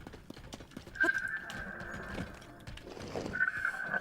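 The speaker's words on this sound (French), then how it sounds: "des chevaux, des chevaux, des chevaux" Horses in the video game Tears of the Kingdom trot with rhythmic clip-clop hoofbeats while shrill whinnies ring out twice, once near the start and again toward the end, moderately close against quiet game ambience.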